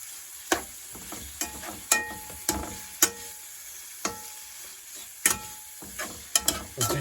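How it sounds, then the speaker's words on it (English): Minced garlic sautéing in a pan for Greek lamb and rice, a soft continuous sizzle punctuated by about a dozen crisp spoon clacks against the pan at uneven intervals, close and clear with no voices. "Stir that garlic around in there, saute that garlic in there for about 30 seconds or so."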